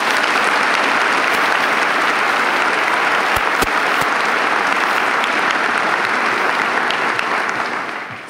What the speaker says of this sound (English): Please join me one more time in a round of applause to thank these professors and leaders